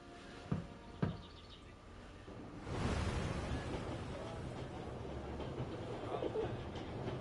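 A train rolls past on rails with a broad, steady rumble and rushing roar that swells in and holds, preceded by two brief faint knocks.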